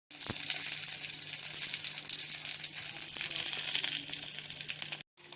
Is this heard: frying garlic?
yes